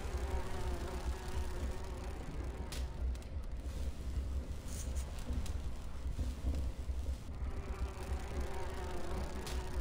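Steady insect-like buzzing of bees in the video game Grim Fandango Remastered, a continuous dense drone with faint wind-like noise, carrying on alone throughout.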